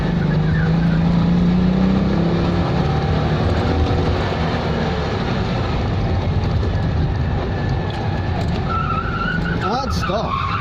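A Citroen 2CV spins its wheels on an autosolo run, engine straining loudly and continuously with tyre scrabble and a rising squeal near the end, under occasional voices.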